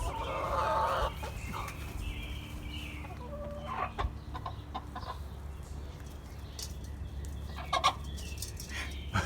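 Backyard hens cluck and murmur in short bursts over a steady low hum, with a louder squawk near the start and scattered chatter later.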